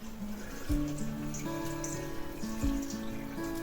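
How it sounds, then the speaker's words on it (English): Water pours into a pot of apple scraps for spiced apple jelly, a continuous splashing and gurgling stream with rising tonal notes as the pot fills, close and alone. "then I'm going to add water in"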